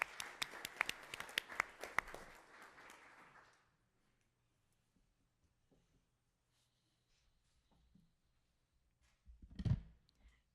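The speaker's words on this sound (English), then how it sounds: "Yeah, we can clap." Brief round of audience clapping at a school district governing board meeting, sharp individual claps for a few seconds that fade into near silence, followed by faint room noise and a short muffled sound near the end.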